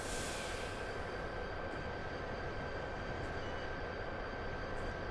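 Steady, continuous rumble of a light train rolling downhill on rails through the Chatham and Medway Valley lines in Train Simulator 2022, with a faint high whine and occasional soft clicks, no voices.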